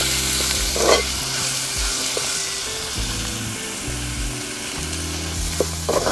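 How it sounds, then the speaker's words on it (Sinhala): Spices, chillies, curry leaves and onion tempering in hot oil for an egg curry, giving a steady loud sizzle and crackle with occasional stirring scrapes throughout. "ටෙම්පරාදු කරනවා."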